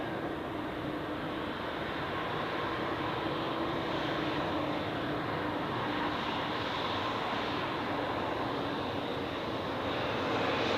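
An Air Bulgaria Airbus A320 jet at Zurich Airport, a steady broadband engine roar holding evenly from a distance, continuous and without pauses.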